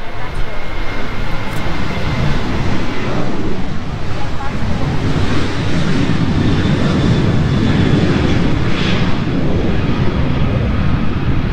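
An Alaska Airlines airliner takes off, its jet engines a steady, loud broadband roar that holds for the whole stretch, with wind buffeting the microphone and voices faintly underneath.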